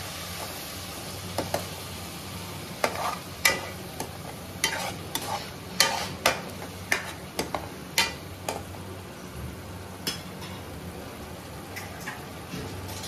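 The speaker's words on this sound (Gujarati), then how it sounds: "ટમેટાની પેસ્ટ એડ કરી દેશું. બધી વસ્તુને આપણે મિક્સ કરી લેશું." Onion and tomato paste stirred in a pan for pav ragda, a spoon scraping in a dozen sharp, uneven strokes over a faint steady sizzle, close and alone without talk.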